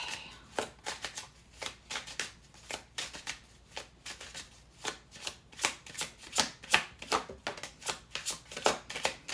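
Tarot cards shuffled by hand at close range in a quiet room, a steady run of crisp riffling bursts and soft slaps repeating roughly every half second throughout.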